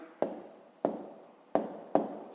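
Numbers are written by hand while working a fifth-grade math subtraction exercise, heard as four evenly spaced, sharp scratchy strokes, close and distinct against quiet.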